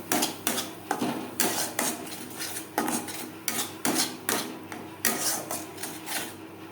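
Spices being stirred in a frying pan over a medium flame, with a metal spoon or spatula knocking and scraping against the pan in repeated sharp clicks about twice a second, close and clear, with no speech.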